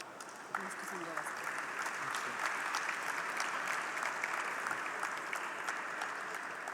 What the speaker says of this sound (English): Ladies and gentlemen, a round of applause for Mr. P.K. Belsare and Professor Narendra Mohan.